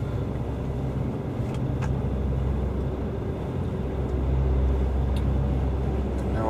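A truck rolls off a ferry in Belfast, its engine and road noise forming a steady low rumble that builds slightly toward the end, with no talking over it.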